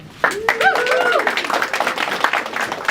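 Gala audience applause breaks out suddenly and holds as steady, dense clapping from a crowd, with a voice briefly heard over the start of it.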